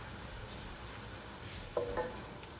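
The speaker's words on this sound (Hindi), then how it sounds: "यहाँ पर पास्ता के लिए वाइट सॉस बन रहा है, जिसके लिए सबसे पहले बटर को थोड़ा सा मेल्ट करेंगे।" Butter melts in a pan for a pasta white sauce, a quiet steady sizzle with a brief light clatter of a utensil near the end.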